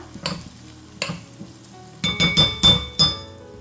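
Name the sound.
frying dried fish (sukat) in oil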